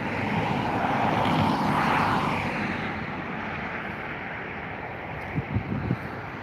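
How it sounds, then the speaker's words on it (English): British Airways Airbus A320 jet departing Dublin Airport, a broad loud engine roar swelling and then fading, wind buffeting the microphone, with a few faint knocks near the end. "The British Airways A320 heading over to London Heathrow."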